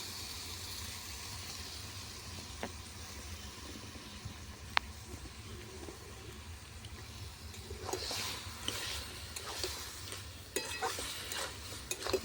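A spoon stirs a thick curry of aubergine, potato, spinach and bori with sugar in a pan, giving soft scraping and a faint sizzle that grows busier toward the end, with no talking.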